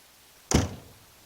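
The door of a truck camper shuts with a single solid thunk, fairly close, then a short fading rattle and quiet.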